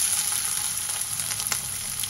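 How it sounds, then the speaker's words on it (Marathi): Chopped onion fries in a pan for green prawn pulao, giving a loud, steady close-up sizzle and crackle with a faint stir near the end and no voices. "कांदा घालूया."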